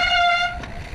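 Loud, high tonal squeal from a bicycle brake, a steady piercing whine with stacked harmonics that holds for about half a second before easing off into rolling noise, up close.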